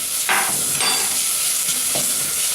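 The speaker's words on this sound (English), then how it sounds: "Okay, in goes our jaggery." Jaggery drops into browning onions frying in a pan for Parsi rice, bringing a steady loud sizzle with a few stirring scrapes and bursts, close by and with no voices.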